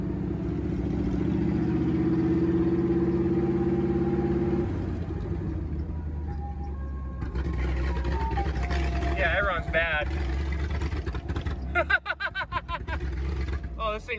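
A Jeep CJ5 engine on a Quadrajet carburetor runs rough and uneven, a loud steady rumble that falters partway through before sputtering and surging again, with people talking over it.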